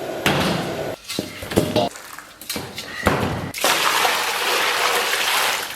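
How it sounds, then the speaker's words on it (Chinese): A blanched pork hock is lifted out of its cooking pot with a few splashing scoops, thumps and drips, followed by a steady rush of running water. "焯好的肘子咱们给它捞出。"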